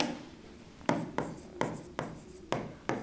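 Pen or marker writing the trend equation on a board during a class 12 time series lecture: a series of short scraping strokes, close and fairly soft, with pauses between them and no talk.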